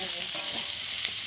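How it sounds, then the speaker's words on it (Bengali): Potato pieces frying in a little oil with salt, giving a dense, continuous hiss of sizzling oil, close and steady throughout the short stretch, with no voices. "দিয়ে আলুটাকে আমি ভেজে নেব"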